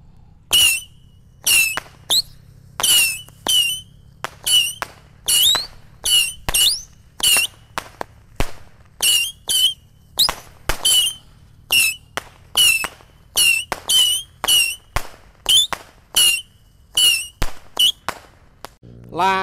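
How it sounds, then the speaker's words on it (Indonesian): A 25-shot mercon tikus firecracker box fires outdoors in the evening, giving a long run of sharp whistling squeals with crackling pops in a steady rapid rhythm, each burst brief and loud, close by. "Selanjutnya kita akan menyalakan mercon tikus box 25 shot ya"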